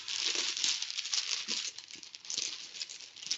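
Rocks are shuffled together for a reading, making a continuous close rattling, clattering and crinkling sound that holds steady for several seconds with no talk.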